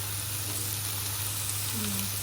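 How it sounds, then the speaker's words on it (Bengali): Fish heads frying in a pan make a steady, dense, close sizzle that holds at an even level throughout, with a faint voice briefly underneath. "এখানে কল্লা ভাজি করছে"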